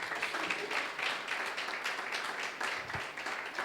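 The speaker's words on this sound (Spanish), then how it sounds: "¿Le quiere dar un aplauso al Señor?" Steady applause from a church congregation, dense clapping that continues evenly throughout.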